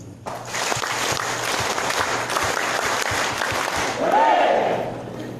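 Audience applause following a speech at a 2018 Ambassador of Peace event, a dense steady clapping that fills the whole stretch, with a low hum beneath and a brief voice rising near the end.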